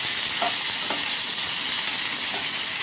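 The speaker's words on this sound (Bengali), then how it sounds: "ভালো করে নেড়ে নিচ্ছি" Carrots frying in oil in a wok while being stirred, giving a steady, loud, even sizzle throughout with a few soft scrapes of the spatula against the pan.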